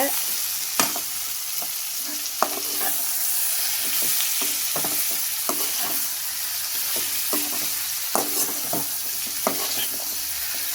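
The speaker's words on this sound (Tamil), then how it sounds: "நல்லா கிண்டி விடுங்க." Bitter gourd fries in plenty of oil for a tamarind curry, a constant bright sizzle under repeated sharp clicks and scrapes of a spoon stirring against the pan, close and without speech.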